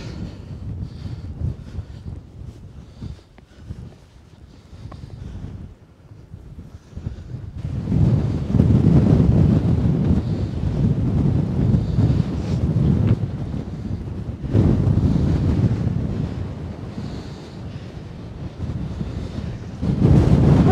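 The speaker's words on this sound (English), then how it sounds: "It is so breezy up here." Strong wind gusts buffet the microphone at the cold, exposed summit of Capulin Volcano, a low roaring rush that swells louder after a quieter start and stays steady and close with no talking.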